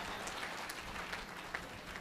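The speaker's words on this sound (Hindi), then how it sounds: "जोरदार तालियां बजा दें" An audience at a Hindi poetry recital applauds for a poet with faint, distant, hissing clapping that carries on evenly for a couple of seconds.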